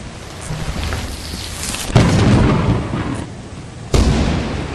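Thunder rumbles through steady rain in a co-op online video game after a lightning strike, with two sharp cracks about two seconds apart, each followed by a rolling roar; no talking.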